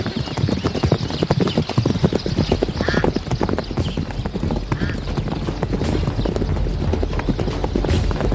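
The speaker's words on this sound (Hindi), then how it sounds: "अरे हम सबसे तेज घोड़ा दौड़ाएंगे।" A horse gallops at speed, its hooves clip-clopping in a fast, steady rhythm that runs through the whole stretch, loud and close, with a brief whinny partway through.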